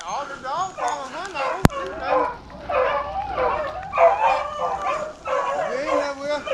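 Hunting dogs from a kennel bark, yip and whine in a busy chorus after finding a rabbit in the field, close and continuous, while people talk over them.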